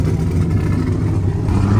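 A loud nitrous LS-powered Cadillac crawls over a rocky trail, its engine a steady, heavy, close rumble with slight revving swells and no voices over it.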